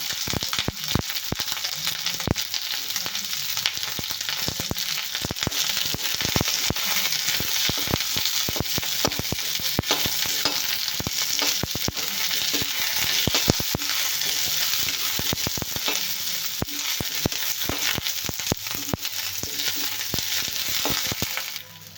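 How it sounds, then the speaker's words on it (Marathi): Chillies and onion fry and sizzle in hot oil in a pan for dhaba-style dum aloo. The crackling is dense and continuous, with sharp pops and occasional stirring, and no talk. "टाकूया मिरच्या"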